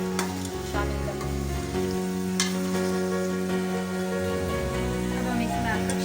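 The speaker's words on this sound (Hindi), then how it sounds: "ऑयल से फ्राई करेंगे। फिर हम इसमें लहसुन अदरक शामिल करेंगे।" Garlic and ginger frying in hot oil in a pan for dhaba-style chicken karahi, a steady dense sizzle with stirring clatter, loud and close throughout.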